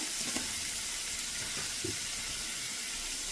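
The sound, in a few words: stirring beans in a pan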